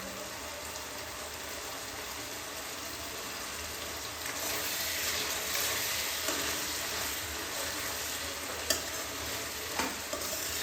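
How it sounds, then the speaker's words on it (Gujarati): Onions and tomatoes sauté in a steel pan with a little water for a Kathiyawadi roasted brinjal bharta. A soft, steady sizzle runs throughout, grows slightly louder partway, and carries a few faint stirring clinks. "અને થોડી વારે હલાવતા જશું જેથી પાણી બળી જાય અને ડુંગળીને એ પણ સંતળાઈ જાય"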